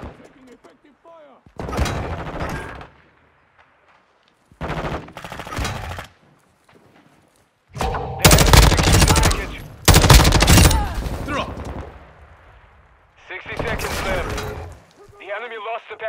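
Bursts of automatic gunfire and single shots ring out in a Call of Duty battle, loud and close in several separate volleys over about sixteen seconds, with game voices heard between them.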